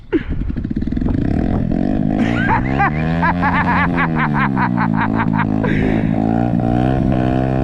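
A Herald Maverick 125 motorcycle engine idling and revving at low speed up close, with rising and falling pitched revs over a steady rumble and voices talking in the background.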